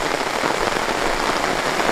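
A sudden heavy downpour drums steadily on a solo camper's tent at a Hokkaido lakeside campsite, a dense, loud, unbroken patter close overhead with no voices.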